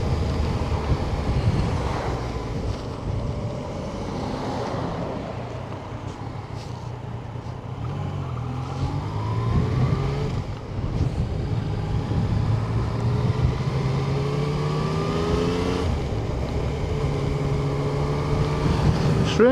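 A Yamaha Tracer 900 motorcycle ridden on West Yorkshire roads, heard as a steady, loud engine roar mixed with wind rush, its pitch rising and falling as the rider changes speed, with no talking.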